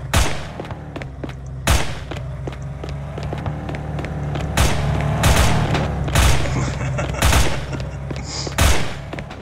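Gunfire in the SinVerse video game's Chinatown area: repeated loud shots and bursts at irregular intervals over low background game sound.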